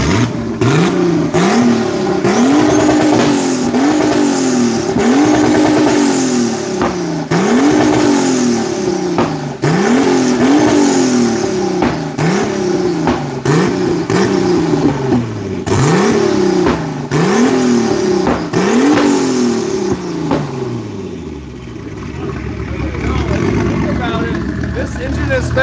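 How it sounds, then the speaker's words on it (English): A car engine being revved repeatedly at high RPM, bouncing off the rev limiter in steady rising and falling pulls, loud and close, with people talking and cheering over it; the engine has a newly installed cam being broken in. "This engine has spent more time at high RPM than no RPM."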